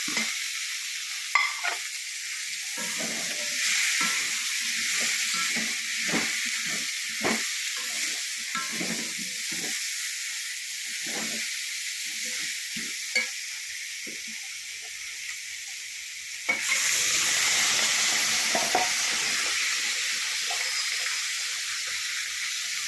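Gooseberries and coconut fry in a pan for Kerala-style gooseberry pickle, giving a steady close sizzle broken by repeated scraping stir strokes, with the frying growing louder and brighter near the end.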